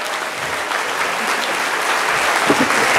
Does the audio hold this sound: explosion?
no